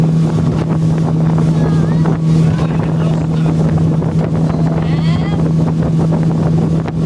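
Heavy wind buffets the microphone throughout a speedboat ride at sea, a constant roar over the steady drone of the boat's motor, with faint voices partly buried underneath.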